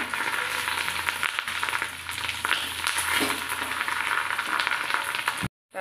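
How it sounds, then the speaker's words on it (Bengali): Fish roe frying in a pan gives a close, continuous crackling sizzle with a few stirring scrapes, holding steady for about five seconds before cutting off abruptly. "এপিট এপিট দু পিটি ভাজা হয়ে গেছে।"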